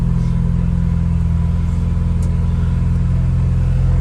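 An Integra Type R engine idles in neutral with no throttle, a loud, steady, close rumble holding an even pulse from start to end.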